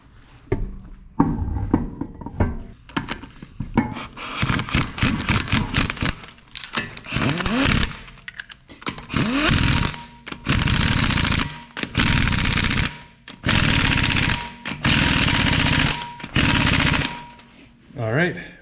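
An impact wrench fires off repeated loud rattling bursts while a wheel goes back onto a 2015 Toyota Highlander in a repair shop, short hammering runs separated by brief pauses.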